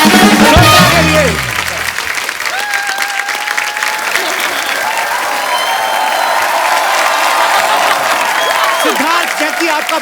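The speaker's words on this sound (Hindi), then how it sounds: "जोरदार तालियां जैकलीन और सिद्धार्थ मल्होत्रा के लिए" A studio audience at a television comedy show claps loudly and steadily for a celebrity couple, a dense, sustained wash of applause that follows a brief louder burst at the start, with some cheering and voices mixed in.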